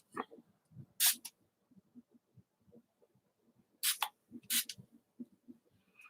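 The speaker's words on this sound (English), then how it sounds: "just taking my squirt bottle, it's a little mister. I'm just gonna mist over the top of it." Three short hissing spritzes from a spray bottle, one alone and then two close together, with soft handling clicks in between.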